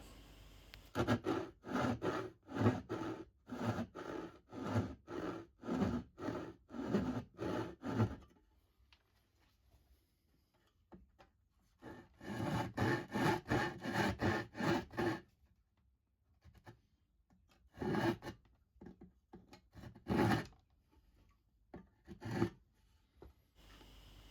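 A hand saw cuts dovetails in wood for a keepsake box, giving steady back-and-forth rasping strokes in a quick rhythm. The strokes pause, resume in a second run, then break into a few short isolated strokes near the end.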